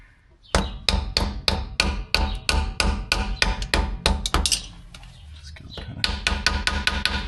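Rapid, loud metallic hammer blows on a Volvo 240 car part strike in a steady rhythm, pause briefly, then resume with quicker close-up strikes.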